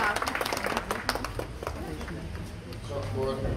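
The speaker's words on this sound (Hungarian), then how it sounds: "Tapsoljuk meg egyébként a kicsit." A group claps for a small child at a home game of finding numbered cubes, a brief burst of scattered applause under ongoing talk and background movement.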